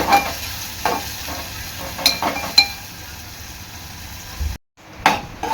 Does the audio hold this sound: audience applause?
no